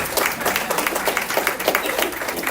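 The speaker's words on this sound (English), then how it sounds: "One more round of applause for our panel and everyone who spoke today." Audience applause for a panel at an empowerment session, close, crisp clapping with audible individual hand strikes, steady throughout.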